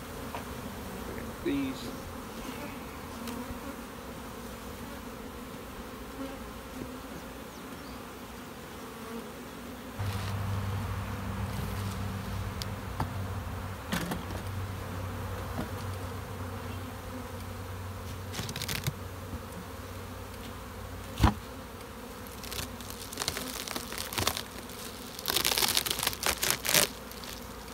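Honeybees drone in a steady, dense buzz close by around hive frames of brood in a nuc, with occasional rustles and clicks and a brief spoken word.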